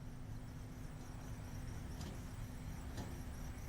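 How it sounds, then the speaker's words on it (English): A manually driven truck pulls away at a transfer hub, giving a steady low engine rumble with faint squeaks and clicks. It carries on at moderate distance with no voices. "You can see the manually driven truck pull away"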